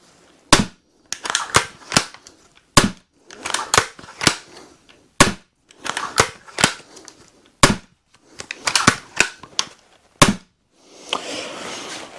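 A series of sharp, loud crossbow shots, each a crisp snap with a brief rattling decay, spaced irregularly about a second apart.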